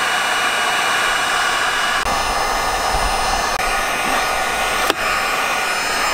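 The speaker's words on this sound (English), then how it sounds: "I'm going to try it with a heat gun right now and see if I can pop it off" A heat gun blowing hot air onto stickers to loosen them for removal, a loud, steady roaring hiss of fan and airflow that runs unbroken with only slight shifts in tone and one brief knock near the end.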